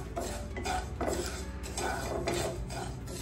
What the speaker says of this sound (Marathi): तर हे आपण सारखं एक पद्धतीने भाजत राहायचंय, याच्या लाह्या तयार होतात